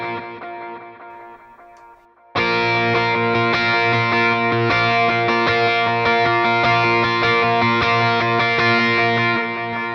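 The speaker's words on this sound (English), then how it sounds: "I'm just going to add a little bit of reverb just so it gets a little bit more washy and more kind of epic" Distorted electric guitar chords with reverb ring out loud and sustained in a studio, a fading tail giving way to a strong strummed rhythm part that holds steady, without talk.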